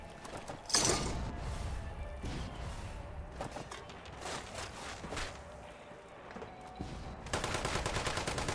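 Gunfire in Fallout 76: a loud shot near the start, then scattered shots and clattering mechanical noise, ending in a rapid burst of automatic fire, all fairly quiet and without talk.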